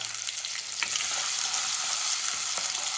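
Something frying in a pan with a little salt added sizzles steadily and close, a dense continuous crackle with a few soft stirring knocks, no voices.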